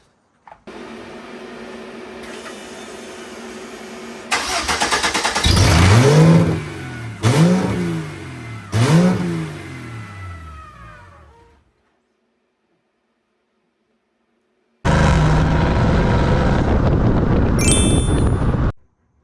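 A GM 4200 engine fitted with a homemade aluminum intake manifold cranks, fires and revs in several loud rising-and-falling bursts, then cuts off to silence before running again steadily and close.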